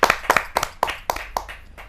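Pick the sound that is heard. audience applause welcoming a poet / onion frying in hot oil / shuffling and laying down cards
audience applause welcoming a poet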